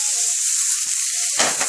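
Loud, close sizzling of steak frying in a hot pan for steak au poivre, a bright crackling hiss that swells sharply near the end as more meat hits the oil.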